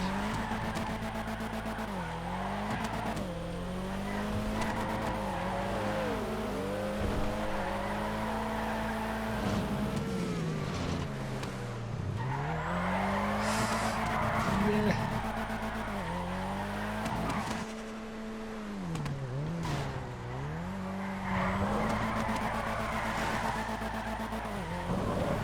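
A drift race car in GTA FiveM sweeps through repeated slides, its engine revving up and down in long rising and falling pitches while tires squeal steadily, loud and close throughout with no voices.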